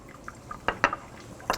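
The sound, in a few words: pouring liquid during benzoic acid preparation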